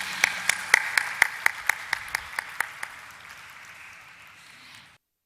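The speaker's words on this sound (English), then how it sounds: "let's have once again a huge applause for Senco Gold Limited." Audience applause at the Senco Gold Limited IPO listing ceremony at the Bombay Stock Exchange: a dense wash of clapping with distinct, evenly spaced claps standing out near the start, then gradually thinning and fading to silence after about five seconds.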